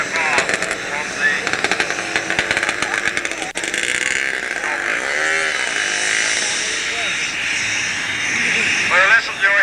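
A loud jet dragster's Orpheus jet engine roars steadily at a 1986 drag race at North Weald, its whine rising and holding at a high pitch, with a rough crackling edge early on.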